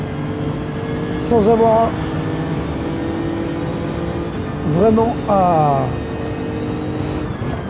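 A race car engine in a racing video game at the Brazil circuit holds a steady drone, with brief rising revs, under continuous talking.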